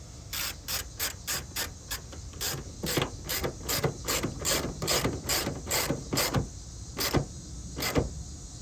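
A hood clip on a 2001-2005 Lexus IS300 being screwed in by hand, giving a rapid series of close, crisp ratcheting clicks in an uneven rhythm.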